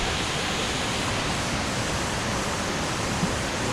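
A waterfall pours among massive boulders in the Colombian countryside near Guadalupe, a steady, loud broadband rush of falling water with no voices or breaks.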